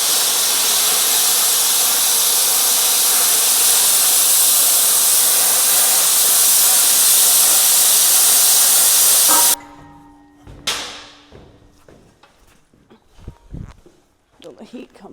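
A piece of metal for a brace is cut with a loud, steady hissing roar that runs for about nine seconds and then stops abruptly, leaving a few quieter knocks and clanks.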